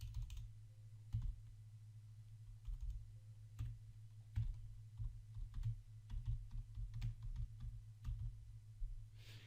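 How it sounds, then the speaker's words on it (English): Soft computer keyboard typing, with sparse, uneven key taps and clicks heard over a steady low hum, fairly faint and without talk. "just type your title here or whatever you want"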